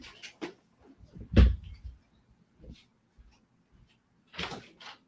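Someone handles a door to answer a caller, giving a few scattered knocks and clunks, one heavier thud standing out, with quiet gaps between them.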